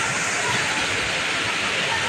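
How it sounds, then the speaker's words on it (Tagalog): The waterfall at Dela Mar Resort in Timoga, Iligan City, roars as a loud, steady rush of falling water that stays constant and fills the whole moment without a break. "This is the waterfall."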